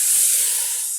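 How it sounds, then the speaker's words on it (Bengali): Water is poured into a hot pot of khichuri, making a loud, close burst of hissing steam that lasts about a second. "পানি দিয়া দিছে"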